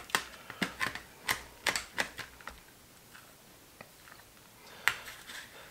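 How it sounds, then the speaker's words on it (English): Knife chopping fresh garden rosemary finely on a cutting board: a run of sharp, fairly close taps in an uneven rhythm, thinning out toward the end with one last firm chop. "I've got just a little bit of rosemary fresh out of the garden. I'm going to dice this up really small."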